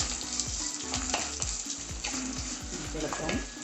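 Shallots, with curry leaves, frying in a pan for fish curry: a dense, even sizzle over a low rhythmic rumbling pulse, steady and close.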